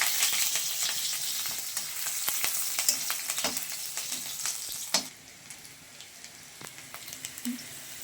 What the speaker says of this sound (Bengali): তেজপাতা আর শুকনো লঙ্কা ফোড়ন।